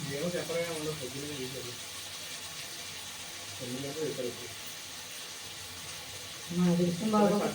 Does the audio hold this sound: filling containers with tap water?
yes